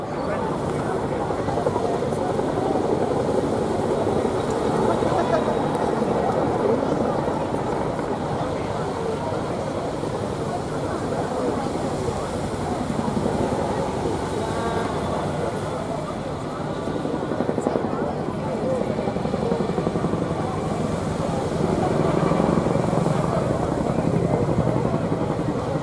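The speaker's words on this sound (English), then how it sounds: "taking the Chinook skywards into the Gorley corkscrew, rotating and climbing to 800 feet" A Chinook helicopter climbs through a corkscrew at the Torbay Airshow, its heavy twin-rotor thumping and engine roar loud and continuous, swelling and easing as it rotates, while a commentator talks over it.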